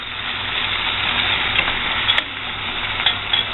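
Already-cooked garden potatoes frying and being stirred in a pan, a steady close sizzle with faint scraping, no talk.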